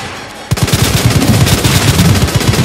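Rapid automatic gunfire erupts in the Resident Evil 2 video game, a loud, dense, sustained burst of evenly spaced shots starting abruptly after a brief quiet moment.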